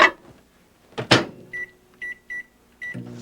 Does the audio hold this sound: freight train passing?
no